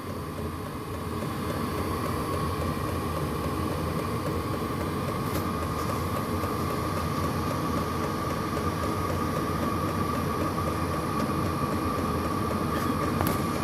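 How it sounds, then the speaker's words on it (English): Jet heater firing up for the first time, blowing warm air out of its pipe: a steady, even roar with a constant tonal whine, like a small jet engine, running evenly with no voices. "Certainly sounds like a small jet engine firing up."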